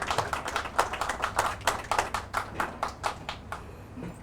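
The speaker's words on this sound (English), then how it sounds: "Give them a big applause" An audience at a Hmong-Lao Secret War soldiers memorial unveiling claps for veterans, a brisk, uneven burst of applause from a modest crowd that thins out toward the end.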